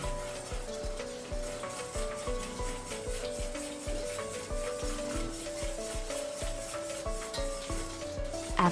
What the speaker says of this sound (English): Add the starch by stirring after boiling slightly.